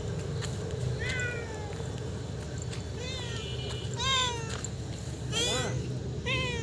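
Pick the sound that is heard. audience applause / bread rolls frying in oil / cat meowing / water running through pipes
cat meowing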